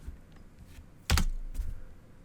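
A few soft clicks on a computer keyboard, then a louder clack and a short burst of keystrokes, close by with no talking.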